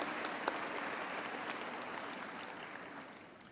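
A crowd at a University of Pretoria graduation ceremony claps steadily in dense, continuous applause, sounding somewhat distant and fading slightly toward the end.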